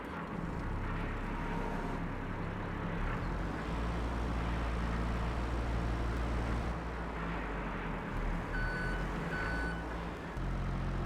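A forklift drives through a Farming Simulator 22 game world. A steady low engine drone runs throughout, and a loud, repeating reversing beeper sounds over it.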